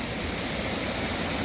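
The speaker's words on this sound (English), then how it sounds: "This is Russell Creek." Russell Creek rushes steadily as a broad, loud wash of water noise, continuous and close throughout with no voices.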